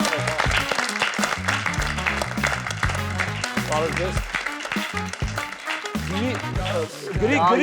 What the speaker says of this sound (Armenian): Դե եկեք դիմավորենք կասկածելի հյուրին, ծափողջունների եւ օվացիաների ներքո